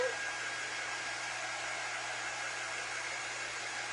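A hair dryer blows steadily throughout, drying a pumpkin cube made with the Chalk Couture method. It gives a loud, even whoosh with no pauses and no talking.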